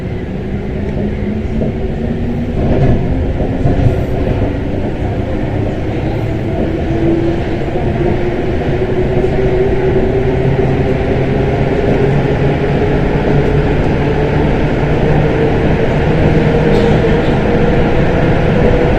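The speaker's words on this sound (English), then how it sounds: "the train goes along the last part of the extension and then joins on to the old part of line" A Paris Metro line 4 train runs along its new extension, heard from inside as a continuous loud rumble with rising and falling motor whine, a few clacks over the track, and no talk.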